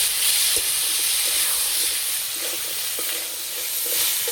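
Ginger garlic paste frying with vegetables in a pan, a steady close sizzle and hiss broken by soft stirring taps and scrapes, no voices.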